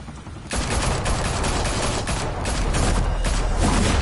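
Enemy gunfire erupts in the Batman Telltale game, a loud, sustained volley of rapid shots starting abruptly after a quieter half second and continuing without pause.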